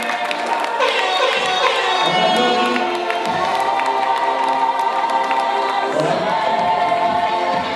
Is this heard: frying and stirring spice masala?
no